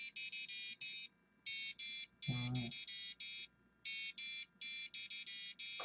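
A buzzer on an Arduino ramen timer sounds in rapid bursts of sharp, high beeps, grouped in repeating patterns with short gaps, briefly interrupted by a low voice.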